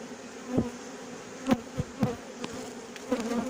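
A bee swarm buzzes close by as it is knocked into a cardboard box, a steady insect drone broken by several sharp thumps and knocks spaced across the moment.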